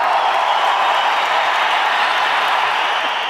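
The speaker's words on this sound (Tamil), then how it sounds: "இந்த கரகோஷமும் உங்களுடைய ஆதரவும் அவருக்கு தொடர்ந்து இருக்கணும்னு உங்கள்கிட்ட பணிவோடு கேட்டுக்கிறேன்." A large audience applauding and cheering for a young performer, a loud, dense, sustained roar of clapping and crowd noise that holds steady throughout.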